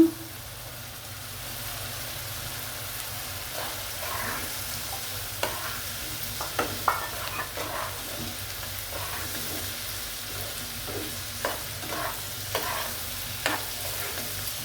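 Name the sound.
onions frying in a pan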